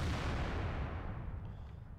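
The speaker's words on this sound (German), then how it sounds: "Das ist ein einzelner Schuss vom IS-3" A single heavy tank cannon shot from an IS-3 in World of Tanks, a loud booming blast that rolls off and decays over about two seconds.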